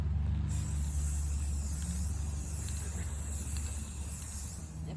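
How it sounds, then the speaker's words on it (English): Spray paint hisses steadily from an aerosol can onto a piece of wood, a continuous close, loud hiss lasting several seconds with no voices over it. "I can spray paint a piece of wood."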